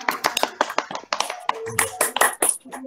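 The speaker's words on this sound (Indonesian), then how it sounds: "tepuk tangan untuk kita semuanya." Children in a classroom clapping in a quick, patterned rhythm of short claps, fairly close, with some voices mixed in.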